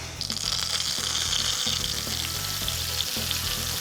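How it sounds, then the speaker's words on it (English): Milk-soaked croutons fry in olive oil in a pan, a loud, close, continuous sizzle with bright crackling and a low, pulsing rumble underneath, with no voices. "And then just fry them"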